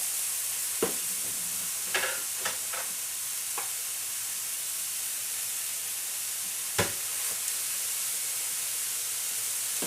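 Stuffed low-carb bacon burgers dropped onto a hot griddle give a steady, even sizzle that runs the whole time, with a few sharp crackles and pops spaced through it. No one speaks.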